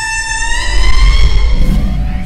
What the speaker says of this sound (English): the Indri is a beautiful sight. But what really makes them special is their singing.